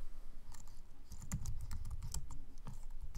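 Keys clatter on a computer keyboard in quick irregular bursts as a project name is entered, close and moderately loud over a steady low hum, with no voices.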